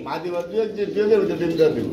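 Khaki pigeons coo softly beneath steady, close male conversation at a pigeon sale, their low murmuring calls mostly buried under the voices.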